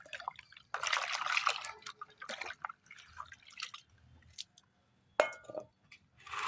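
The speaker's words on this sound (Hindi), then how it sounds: "अब इसको हमें 10 लीटर पानी में मिला देना है इस तरह से" Papaya liquid tonic being poured and mixed into 10 litres of water, with drips, splashes and a few glassy clinks in irregular bursts, fairly close and moderately quiet, no talking.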